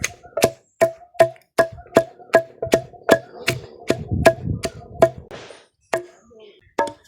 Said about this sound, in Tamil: வெங்காயம், பூண்டு இதெல்லாம் முழுசாக இல்லாமல் நல்லா இடிச்சிடணும்.